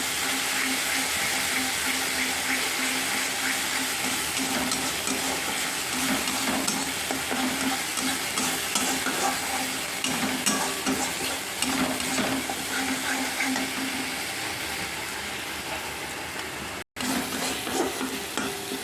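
Ginger-garlic spice paste stir-fries in oil in a pan for an egg dopiaza, giving a steady, close sizzle with scraping stirs throughout and a brief dropout near the end.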